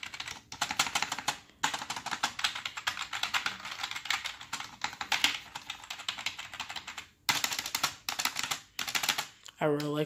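Rapid, continuous typing on a gaming keyboard from a Slayer 3-in-1 gaming kit, close and crisp with dense clacking, brief pauses, and a short burst of a voice near the end.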